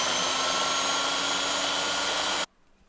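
A DIY drill-powered wood lathe spins steadily with a broadband motor whine and chisel scraping on wood, loud and continuous for about two and a half seconds before cutting off abruptly to near silence.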